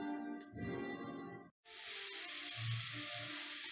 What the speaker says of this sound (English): we're going to toss these carrots and onions in and give them just about 5 minutes